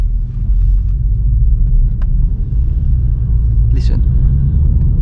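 A Volkswagen Scirocco's engine and exhaust rumble loudly and steadily from inside the car on a drive, a deep continuous drone with no break.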